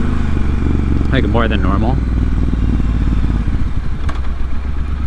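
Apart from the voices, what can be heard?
motorcycle engine while riding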